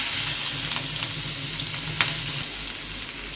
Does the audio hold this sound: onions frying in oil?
yes